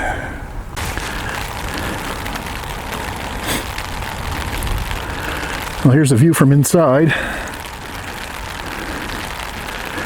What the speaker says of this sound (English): Hear the rain hitting the tarp.